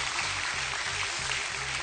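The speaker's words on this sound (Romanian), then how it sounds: "aplauze da, pentru soț" A studio audience at a televised talent show applauds, with dense, steady clapping filling the whole short stretch at an even loudness.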